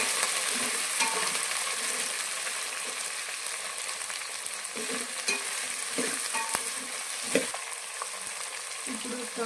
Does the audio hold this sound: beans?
yes